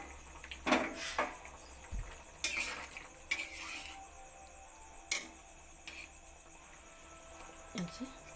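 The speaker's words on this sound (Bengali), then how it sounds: "ঢাকা খুলে দেখে নেব ডাল আলু সেদ্ধ হয়েছে কিনা" A pot lid lifted off a pot of lentils and potatoes cooking on the stove, a few faint metallic clinks and scrapes spaced apart, with quiet background hiss.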